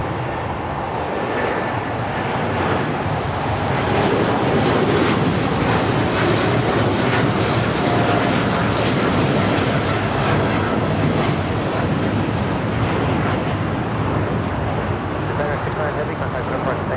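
A Boeing Dreamliner jet airliner rumbles at LAX in a steady, loud engine roar that holds throughout, with someone talking over it.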